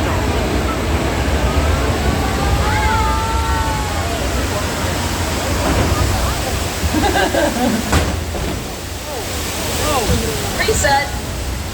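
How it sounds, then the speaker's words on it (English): A loud, continuous rush of water gushes from a staged broken water main during an earthquake effect on the Universal Studios Hollywood tram tour, a dense roaring spray that fills the whole stretch with faint voices blended beneath. "Unfortunately, the water main broke."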